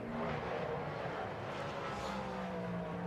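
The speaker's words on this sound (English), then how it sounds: "over 100 miles an hour through turn 9 Rainey curve, up to nearly 130 before breaking down and going all the way down the gearbox to first" Race car at Laguna Seca braking hard out of nearly 130 mph through turn 9 Rainey curve and downshifting through the gearbox, a steady loud engine roar with shifting pitch throughout, no talk.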